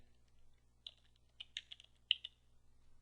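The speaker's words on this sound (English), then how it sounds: "let's try typing in the users command" Keys clack on a computer keyboard as a command is typed, a few sparse, quiet taps followed by a short burst of quicker keystrokes in an otherwise silent room.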